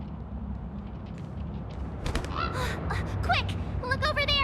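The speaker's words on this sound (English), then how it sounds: "Look over there! Sunday's bird!" A bird cawing in the video game Honkai: Star Rail, several short harsh calls near the end over a steady ambient game background, with voices in the mix.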